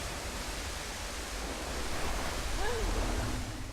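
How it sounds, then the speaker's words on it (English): Steady broadband rush of a waterfall in the video game Tomb Raider Legend, a continuous wash of falling water heard alone with faint tonal game effects near the end. "Just missed a waterfall."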